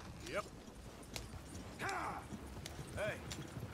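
Horse hooves clip-clopping in Red Dead Redemption 2, faint and fairly distant, a few scattered steps under quiet talking.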